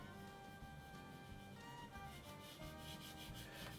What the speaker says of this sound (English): I'm just going to scrape this on.